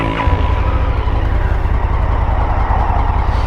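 A loud, steady Indian FTR motorcycle engine with stock exhaust rumbles continuously at close range, a deep buzzing drone with no talking over it.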